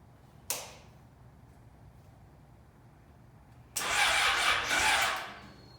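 A Yamaha motorcycle engine with a newly replaced fuel pump gives a sharp single click or crank, then after a quiet pause catches and runs loudly with a rough, steady roar for about two seconds.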